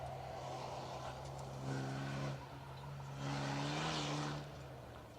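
A rally car's engine drones in the distance on a Welsh rally stage, swelling twice as it passes, faint and steady with no voices.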